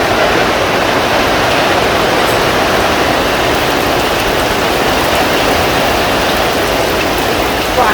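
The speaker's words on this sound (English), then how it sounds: "It's raining now." Rain falls steadily outside a garage, a loud, even hiss of dense drops that continues unbroken from start to end with no voices.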